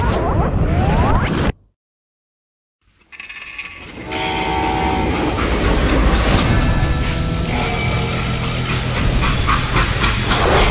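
Train in the Western video game Call of Juarez: Gunslinger, a loud rumbling run that cuts to silence for about a second, then returns as steady rolling rail noise with tonal horn-like layers.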